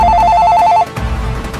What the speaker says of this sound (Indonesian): Sepertinya ada yang menelpon tuh.